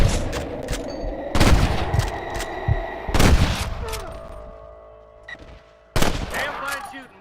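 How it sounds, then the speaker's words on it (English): Gunfire in Red Dead Redemption comes in three loud bursts of rapid shots, each one ringing out and fading, with a quieter shot in between and a voice faintly under the mix. "Damn fine shooting, boys."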